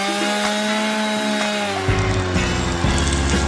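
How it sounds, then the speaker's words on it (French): A saw cuts through a cactus close up with a loud, continuous grinding buzz that deepens and grows coarser partway through, running steadily with no talking. "Avec l'aide de cette scie, je vais faire comme ça."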